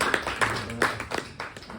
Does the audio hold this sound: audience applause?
yes